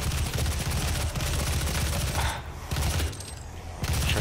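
Loud, sustained gunfire in DOOM SnapMap fills most of the clip with dense rapid shots, broken by a couple of short quieter gaps before the firing resumes.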